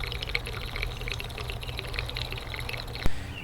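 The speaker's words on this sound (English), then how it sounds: "All right, so we're getting a refill on the water." Water pours steadily into the cooling system of an old Plymouth car that had run bone dry, a continuous splashing fill with a sharp knock near the end.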